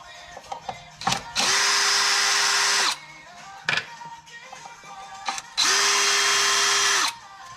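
Power drill backing screws out of a panel on a Kawasaki Mule FXT utility vehicle, two sustained loud whirring bursts of about one and a half seconds each, with short clicks and handling noises between them.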